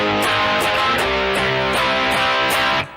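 Distorted electric guitar, capoed, plays a closing chorus turnaround, a series of loud, evenly spaced chord hits that stop abruptly near the end, with no voices.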